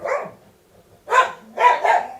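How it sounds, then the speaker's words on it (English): Several dogs bark in loud, close bursts, one short volley followed by a pause and then two more overlapping barks. "Dogs are freaking out."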